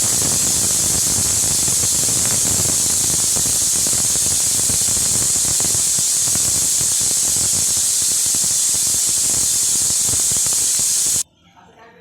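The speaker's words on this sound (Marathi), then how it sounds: "याच्या 2 शिट्ट्या काढून घेणार आहे" A pressure cooker cooking whole masoor curry lets off a loud, continuous hissing steam whistle that holds steady for over ten seconds before cutting off abruptly.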